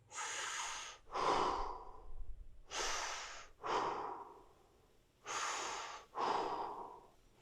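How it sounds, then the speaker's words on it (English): Deep, slow breathing during a lower-body fascia stretch: six long breaths in paired inhale-exhale cycles, close and fairly loud, with no talking. "Deep breaths."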